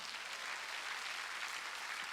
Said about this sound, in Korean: 여러분 할 수 있는 사람은 박수치라고